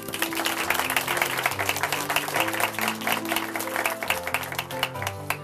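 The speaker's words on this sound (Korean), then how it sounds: "다시 한번 응원의 박수 보내드렸으면 합니다" Applause claps along at a steady pace for several seconds at a Korean church broadcast, with sustained musical tones playing underneath.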